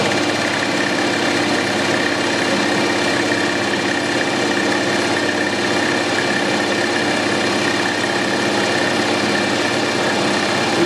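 Lathe milling a metal workpiece at 1000 RPM, a steady loud mechanical drone and whir of the spinning machine and cutter, continuous with no talking.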